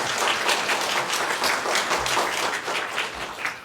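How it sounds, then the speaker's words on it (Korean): A church congregation claps in welcome at a Sunday worship service, a steady, even wash of many hands from start to finish at moderate volume, easing slightly toward the end. "박수를 한번 환영하겠습니다."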